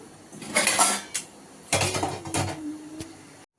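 A metal kadai is set down on a home stove for making gongura pachadi, giving a few close metallic clanks and a short scraping rattle, with no talk.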